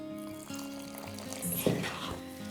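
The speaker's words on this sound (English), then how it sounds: "we're gonna take the honey water and I'm just gonna pour it straight in" Honey water is poured straight into a Norwegian knekkebrød crispbread dough mix, giving a brief, soft splashing pour midway over a quiet, steady tonal background.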